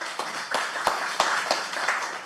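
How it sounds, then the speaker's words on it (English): Brief round of applause for sixth grade students at an education committee hearing, a small group clapping steadily with a few sharper individual claps standing out, moderately loud and with no talk over it. "Let's give them a little round of applause"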